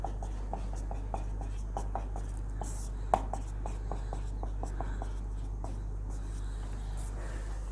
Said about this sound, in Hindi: थोड़ा अच्छे से लिख लेते हैं इसको।